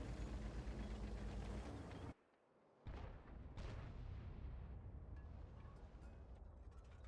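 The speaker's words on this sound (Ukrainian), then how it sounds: "Зараз і так, арта вистріла" Artillery fire in World of Tanks on the Westfield map: loud, sustained booming game audio that cuts out abruptly for a moment, then resumes as a heavy, dense roar with a sharp distinct shot near the middle.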